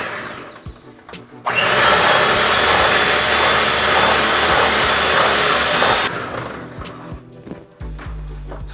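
An electric mixer whirs loudly and steadily through sweet potato pie filling spiced with cinnamon, nutmeg and ginger, running for several seconds before switching off into quieter kitchen clatter.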